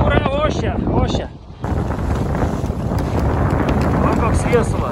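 The sea roars and wind buffets the microphone aboard a small boat sailing in rough Arctic waters off Svalbard, with a steady, loud broadband rush and a voice briefly audible at the start.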